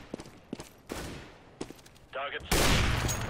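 Gunfire in Counter-Strike: Global Offensive, a few sharp separate shots early on, then a louder, denser burst of firing near the end, mixed with game noise and some talk.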